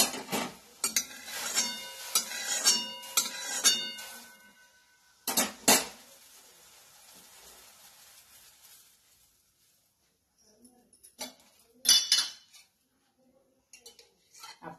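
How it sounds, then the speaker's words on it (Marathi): A metal kadhai is set down on a home kitchen stove with a few sharp clanks and scrapes, followed by quieter pauses and more scattered metallic knocks, with no talking. "आता या ठिकाणी मी कढई ठेवलेली आहे."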